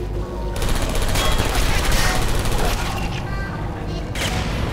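Automated turrets firing in the Portal 2 video game, a dense, continuous rapid burst of gunfire lasting several seconds, loud and close with a brief lull near the end.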